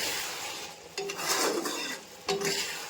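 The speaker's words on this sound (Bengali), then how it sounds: "এখন খানিক্ষণ একটু ভালো করে নাড়ানাড়ি করব" A spoon clatters against a pan as pakoras are stirred with chili, soy, vinegar and tomato sauces and carrot, soft scraping broken by two brighter metallic knocks over a faint sizzle.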